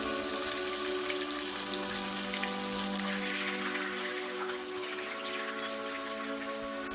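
Bacon and tofu fry in a pan just after being flipped, giving a steady, dense sizzle that crackles like rain on a surface. It stays moderately loud and even throughout, with no talk.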